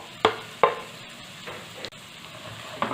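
Finely chopped onion dropped into hot oil for dhaba-style dal palak, sizzling softly while a spoon scrapes the pan in a few sharp, separate strokes.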